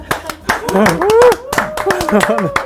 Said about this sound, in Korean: 여러분 박수 한번 치고 시작할까요?